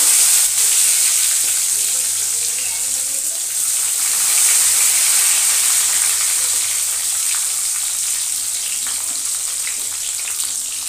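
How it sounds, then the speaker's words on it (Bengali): Tomato hits hot oil already seasoned with bay leaf, cumin and kasuri methi, giving a steady, loud, close sizzle that hisses without a break. "তেলের মধ্যে দিয়েছি তেজপাতা, জিরে আর কাসুরি মেথি দিয়েছি। এবারে টমেটোটা দিয়ে দেবো।"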